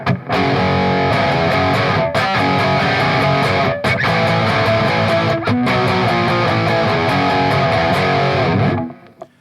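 A P90-equipped electric guitar plays through distortion cranked all the way up, a loud, saturated, sustained wall of chords with brief gaps between strums before ringing out and cutting off.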